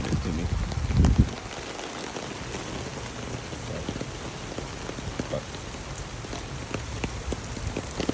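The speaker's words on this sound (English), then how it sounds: "This rain looks cool tonight, though." Steady rain falls at night at Disney's All-Star Movies resort, a constant close patter with a brief louder rustle near the start.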